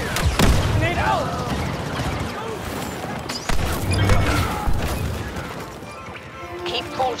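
Grenade detonation in Star Wars Battlefront II, a sharp crash and heavy boom early on, followed by further thuds and battle noise, with game voices and radio chatter running through it.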